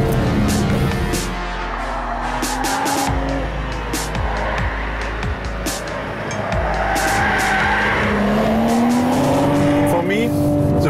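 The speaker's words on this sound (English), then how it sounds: "you steer the car through the corners, not only with the steering wheel, but also with the throttle" A 2021 BMW 4 Series coupe corners hard, its engine droning steadily as its tires squeal and skid through the bends. The sound is loud and close, with someone talking over it.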